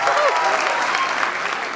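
Sustained audience applause in a live comedy show studio, dense and steady across the whole stretch, with a host's voice carrying over it near the start.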